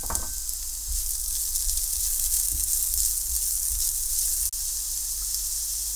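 Diced red pepper sizzling in olive oil on a stovetop, a dense even hiss of frying that holds steady, broken once by a brief dropout near the end, with no one talking.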